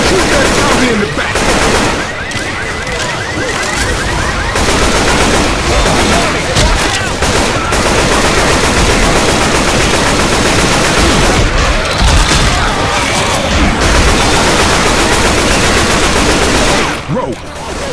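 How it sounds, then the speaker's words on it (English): Rapid bursts of automatic gunfire shoot zombies in the Left 4 Dead 2 video game, loud and dense for most of the stretch with brief pauses, while players' voices are heard between shots. "Shoot that zombie in the back!"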